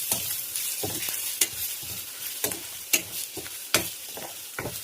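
Ginger garlic paste stirred into browned onions in a hot pan for egg masala curry, a steady sizzle broken by repeated spoon scrapes and clinks, close and loud, without talking.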